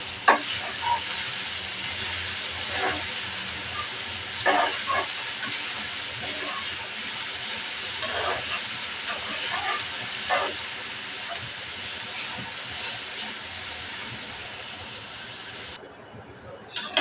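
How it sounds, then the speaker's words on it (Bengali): Boiled greens stir-fry with onion and garlic in a pan, a steady hissing sizzle punctuated by occasional scrapes and taps of the spatula, close and fairly even throughout. "শাকটা পেঁয়াজ রসুনের সাথে ভালোভাবে মিশিয়ে নেব।"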